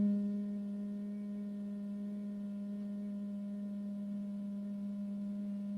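A human voice imitates a honeybee buzz, exhaling through the nose in a steady, low, unbroken hum that holds one pitch for several seconds, quiet and alone.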